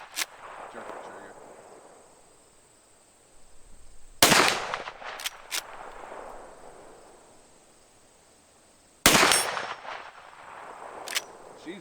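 Rifle shots from a gun fitted with a red dot sight ring out at a range: three loud, sharp cracks spaced several seconds apart, each with a metallic clang and a long fading echo, close by.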